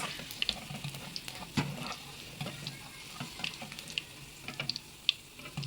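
Cauliflower florets for gobi manchurian frying in a pan, giving a soft, steady sizzle with scattered crisp pops and light clinks of a spatula, close by with no talking.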